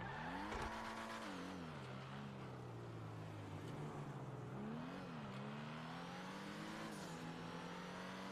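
A racing video game car engine revs continuously at a moderate distance, pitch climbing and dipping with gear changes, with faint tyre squeal and a steady game background underneath.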